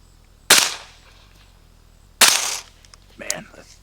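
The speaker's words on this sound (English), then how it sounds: "it's such a ridiculously long gun with a can on it, but man, it sounds so good with a can" Two sharp, loud gunshots from an M16A2 rifle fitted with a Shaw Armament Azimuth suppressor, spaced well apart, each with a short decaying tail, followed by a brief muffled voice.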